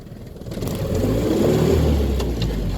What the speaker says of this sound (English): Alright, that was definitely tire spin. Noisy pilot bearing.